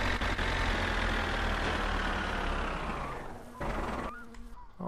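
An old car engine in the My Summer Car video game idles with a loud, steady low rumble, then sputters and cuts out near the end.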